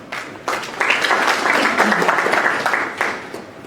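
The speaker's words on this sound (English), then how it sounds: "I think they deserve an applause." Audience at a forum opening ceremony breaks into applause, steady dense clapping that swells after a brief start and holds for a few seconds before tapering.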